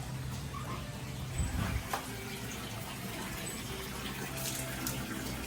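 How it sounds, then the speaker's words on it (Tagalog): Weak flow of water falling from a submersible pump clogged inside a concrete pond filter, a steady broadband rush with a brief louder splash near the middle, no talking. "Pag ganyan mahina yung bagsak ng tubig, ibig sabihin, barado yung power pump, yung submersible pump."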